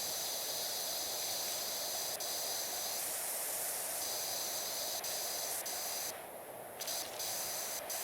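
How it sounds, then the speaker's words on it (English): Wide-fan pressure washer spray cleaning a dirt bike and playground in PowerWash Simulator, a steady loud hiss running throughout with brief shifts in tone as the nozzle moves. "the wider spray that actually cuts through stuff as well"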